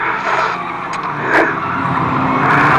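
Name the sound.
race cars skidding on a dusty raceway track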